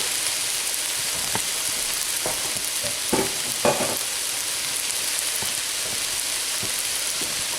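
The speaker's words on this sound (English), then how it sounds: "So we'll fry the rice, basically," Rice frying in a pan for chicken adobo, a steady close sizzle with a few louder crackling bursts and stirring clatters partway through, no voices.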